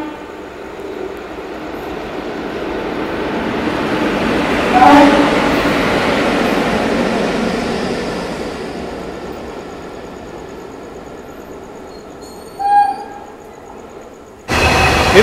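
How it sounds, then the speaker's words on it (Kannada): Goods train passing alongside a halted passenger train near Gauribidanur, a long steady rumble that swells and fades, with a brief louder clatter near the end. "ಒಂದು ಗೂಡ್ಸ್ ಟ್ರೈನ್ ನಮ್ಮನ್ನ ಓವರ್ಟೇಕ್ ಮಾಡ್ಕೊಂಡು ಹೋಗ್ತಿದೆ."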